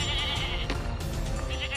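A goat bleats at close range in a rural village setting, a sustained wavering cry of under two seconds with steady background noise and no talk over it.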